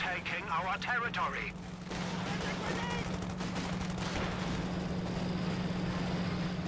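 Artillery barrage in Company of Heroes 2, with Panzer Werfer rocket artillery among the units, rumbling as dense continuous gunfire and explosions under a steady tone, with someone talking over the first couple of seconds.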